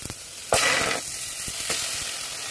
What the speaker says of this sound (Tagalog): Prito muna natin yung manok.